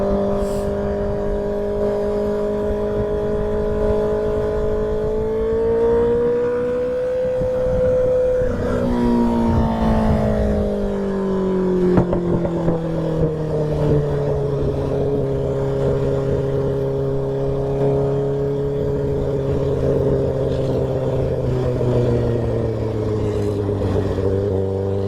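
An 84 motorbike engine with an aftermarket tune revs steadily, then the pitch swoops as the bike pulls away and rides on, a loud, sustained droning note that slowly drops in pitch.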